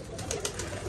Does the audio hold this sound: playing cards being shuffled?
no